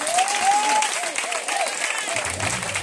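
Crowd clapping and cheering at a church gathering, loud and steady throughout, with a few raised voices rising above the applause.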